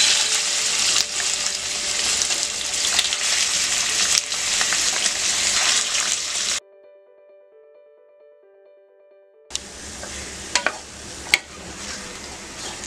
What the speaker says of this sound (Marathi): 2 चमचे तेल तापलं आहे। चिकन घालून घेऊया